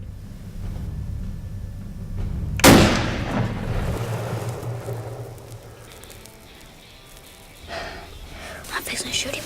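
A single loud rifle gunshot cracks during a deer hunt outdoors, preceded by hushed whispering and followed by a rumbling decay, with faint rustling and low voices afterward.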